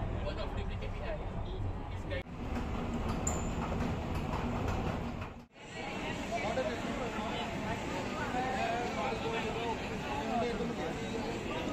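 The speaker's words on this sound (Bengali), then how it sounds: "বিল্ডিংয়ের ভেতর থেকে একটা মেট্রোতে চড়ে আমরা" A metro train in Kuala Lumpur, Malaysia, rumbles steadily on the ride with a continuous rolling roar and murmured chatter from passengers. The sound drops out briefly twice.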